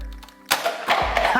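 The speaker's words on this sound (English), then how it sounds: "So you can crank it up backwards, and then just go ahead and fire." A Nerf Fortnite Mega Bulldog toy blaster, cranked backwards to load, fires with one sudden loud thunk followed by a brief rattling clatter as the mechanism settles, close and clear with no talking.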